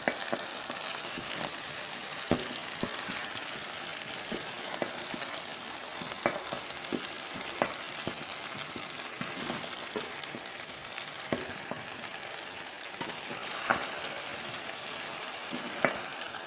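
Arrowroots and onions frying in a pan in an African village kitchen, with a steady soft sizzle broken by repeated scraping stirs at irregular intervals, close and moderately quiet, with no talk.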